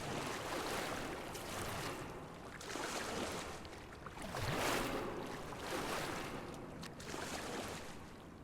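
Water sloshing and lapping in the video game POOLS, with a steady, moderately loud wash of waves and surf that swells a few times, with no voices.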